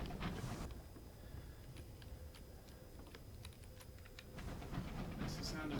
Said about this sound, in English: That's the sound of the penguin train.